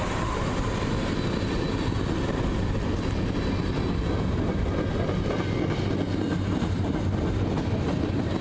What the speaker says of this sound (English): massive train roared by